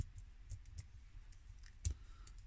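Small plastic parts of a Transformers Siege Micromasters toy being pegged back together, giving a series of faint, light clicks and ticks spread across a quiet background.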